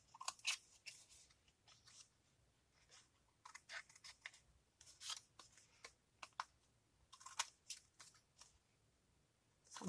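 Scissors snipping off the edge of a paper piece for a handmade nail polish holder box, a series of quick, crisp cuts in irregular clusters, close and fairly quiet with pauses in between.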